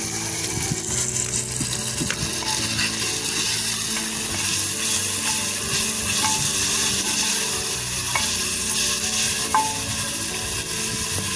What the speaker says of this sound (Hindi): फिर भूनेंगे अच्छी तरह से लहसुन को